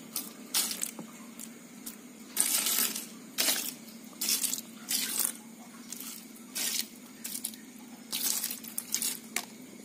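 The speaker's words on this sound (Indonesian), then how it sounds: "saya tuangkan sedikit air guys" A little water is poured by hand into a plastic box of emersed Bucephalandra plants, coming as several short splashy bursts of trickling and spattering, close and moderately loud, separated by brief quiet gaps.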